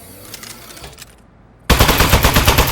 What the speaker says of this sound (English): Presenting the Aperture Science Turret. Go on, take it for a spin.